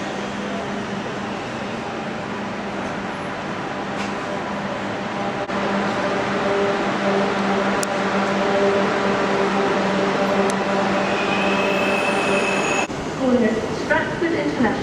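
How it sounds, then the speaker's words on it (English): A Eurostar 373 (E300) train approaches at London St Pancras station, a low rumbling hum with tonal motor whine rising gradually amid station ambience, someone talking over it and a squeal near the end. "coming in the distance is a Eurostar 373 from I don't know where"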